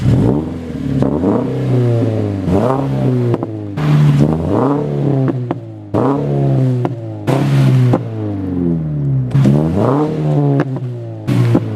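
A 2018 Subaru BRZ's exhaust revs loudly and close, repeated throttle blips rising and falling in steady bursts, with crackly overrun between revs.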